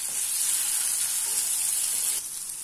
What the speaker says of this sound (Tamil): 2 நிமிஷம் நல்லா எண்ணெயில வதக்கி இருக்கிறேங்க